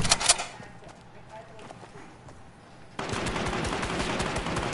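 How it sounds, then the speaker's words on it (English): Gunfire in a Fortnite Battle Royale duos match: a burst of close shots at the start, then a quieter stretch, followed by sustained rapid automatic fire from about midway to the end. "Someone else is shooting them."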